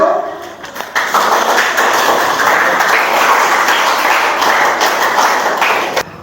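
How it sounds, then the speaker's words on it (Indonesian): Students in a vocational automotive class clap loudly for a presenting group, sustained dense applause that starts after a second and fades out near the end. "Ayo kasih tepuk tangan untuk kelompok 1."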